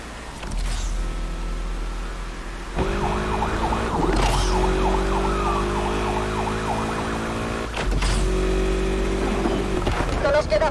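A police car siren wails steadily in the racing game Need for Speed, sounding over a continuous roaring engine and road noise during a chase.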